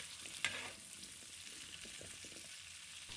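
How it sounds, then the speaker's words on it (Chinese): Green beans with pumpkin and potato are stir-fried in a wok, giving a soft, steady sizzle with faint scraping stirs and one brief sharp clink near the start. "持续翻炒约5分钟，食材们微微变软"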